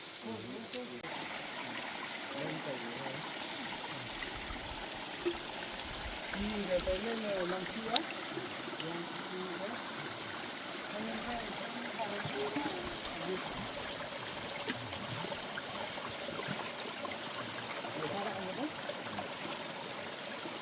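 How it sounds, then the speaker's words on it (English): A flowing stream and waterfall at a historical site in Konyak Naga country, heard as steady rushing, trickling water that runs continuously throughout, with faint voices occasionally underneath. "The big waterfall after that."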